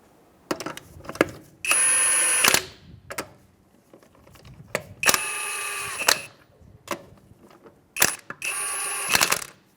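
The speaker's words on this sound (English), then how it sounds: "we're going to go ahead and torque down our lug nuts" Wrench tightening the lug nuts on a Mazda CX-9 wheel with the vehicle on the ground. Three close, sustained ratcheting bursts, each lasting about a second, separated by scattered clicks and knocks.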